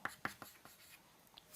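Chalk or marker tapping and scratching on a board during a Hindi-medium maths lecture on parabolas, a few quick short strokes close by with no talking.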